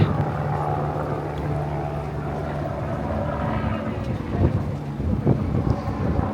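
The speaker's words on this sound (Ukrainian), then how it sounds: "Летить гелікоптер." A low, steady engine drone from a helicopter flying overhead hangs over outdoor wind noise at a Formula 1 race in Japan, with a few soft thumps and rustles near the end.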